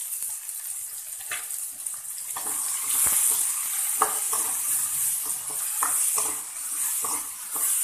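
Vegetables for kurunai kizhangu (elephant yam) kuzhambu sauté with salt in a pan, a steady close sizzle broken by scattered utensil scrapes and stirring clatter, with no talking.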